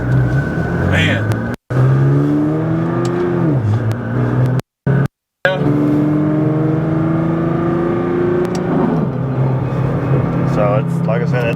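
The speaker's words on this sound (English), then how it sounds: "Oh yeah, this is an all-out race car." A 2014 Nissan GTR race car making 1380 wheel horsepower revs its engine hard from inside the cabin, climbing and falling in repeated pulls with a loud, rough roar, broken by a few brief dropouts.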